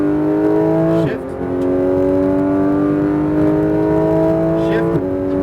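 A Porsche GT3 RS pulling hard on a race track, its engine note climbing steadily, dropping sharply at a gear shift, then climbing again. Loud and close, heard from inside the car.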